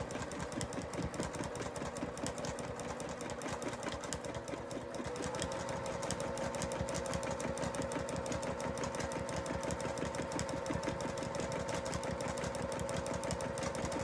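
A sewing machine runs steadily while machine quilting, with a fast, even mechanical stitching chatter that is unbroken and close by. It speeds up slightly about a third of the way in. No one speaks.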